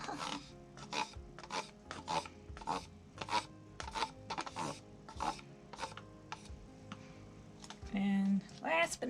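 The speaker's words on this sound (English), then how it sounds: "I gotta scrape this one out." Rhythmic rasping scrapes of acrylic paint being scraped out of a cup for a triple flip cup acrylic pour, repeated strokes at close range with a brief louder rub near the end.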